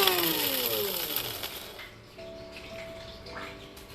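An electric grinder whirs loudly while grinding spices for Szechuan-style braised beef with ginger, garlic and chilli, its motor pitch sliding down as it slows, then a lower steady hum continues to the end.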